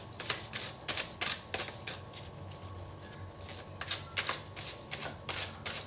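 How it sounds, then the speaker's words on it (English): A deck of tarot-style cards being shuffled by hand, with repeated crisp riffling bursts at an uneven rhythm, close and clear over a low background hum. "I keep shuffling these cards, waiting for something else to come out"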